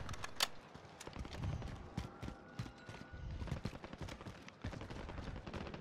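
Rapid gunfire from a Warzone match, with clustered bursts and single cracks repeating through the clip alongside other game noise, fairly loud throughout with no talking.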